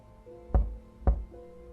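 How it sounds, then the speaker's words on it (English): Two sharp knocks on a front door, evenly spaced about half a second apart, fairly close, with a faint hum behind them. "There was another knock on the front door."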